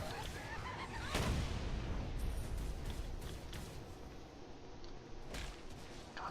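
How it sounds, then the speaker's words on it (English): Gunfire crackles in Saints Row: Gat Out Of Hell, with a few sharp distant shots, one louder crack standing out, over a constant noisy background and goose-like honks. "Who's shooting at me?"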